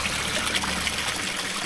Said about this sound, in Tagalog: So, dyan galing yung tubig.